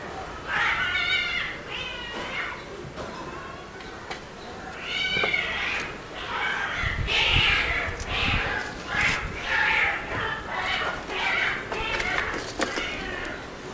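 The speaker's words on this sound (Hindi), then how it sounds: "घर में से आ रही है आवाज़ और बिल्ली" Repeated plaintive cat meows, a dozen or so drawn-out cries at an uneven pace, heard amid a noisy background.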